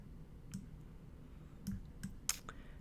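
A computer mouse clicks a few times, sharp, close and fairly quiet, spaced irregularly over a low steady room hum with no talking.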